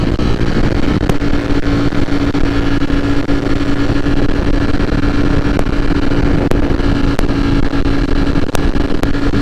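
A Ducati Streetfighter V4 motorcycle accelerating in fourth gear, with a loud continuous engine roar overlaid by heavy wind rush throughout.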